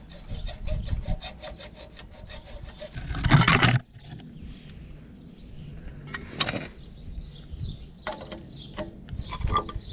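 A hand saw rasps through a rear axle bush on a Mk6 Fiesta ST150, a quiet run of short back-and-forth strokes with a louder burst near the middle.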